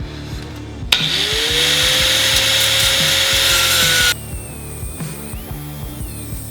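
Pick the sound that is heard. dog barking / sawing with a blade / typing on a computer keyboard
sawing with a blade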